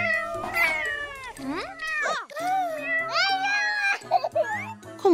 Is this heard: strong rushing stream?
no